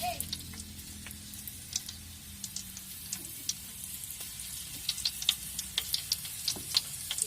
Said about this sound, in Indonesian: teman-teman langsung tuangkan bumbu tumisan tadi ke dalam minyak yang sudah panas